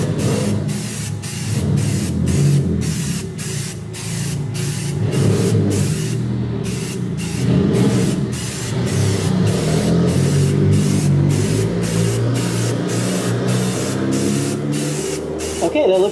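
A spray gun lays paint onto a truck's firewall during an LS swap, hissing loudly in repeated short bursts with brief gaps between them, while someone talks over the spraying.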